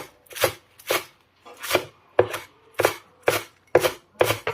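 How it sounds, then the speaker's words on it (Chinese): A knife chops green onions into small scallion pieces on a board in about eight crisp, evenly spaced strokes, each a short close-up crunch, with no talking. "我们准备一把性感的小香葱，改刀给它切成葱花"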